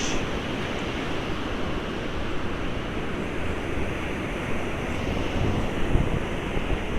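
Ocean waves rolling onto Ocean Beach in San Diego, with wind buffeting the microphone, giving a steady, loud, broadband roar of surf that holds unbroken throughout, with no voices.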